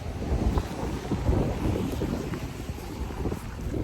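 Wind rumbles and buffets the microphone continuously outdoors in Montreal, Quebec, in December, a dense low roar with no speech over it.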